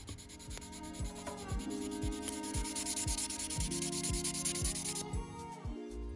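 A Tamiya Nissan Skyline R34 model car body is sanded to strip its emblems; close, continuous rhythmic rubbing strokes of abrasive on plastic, with no voices.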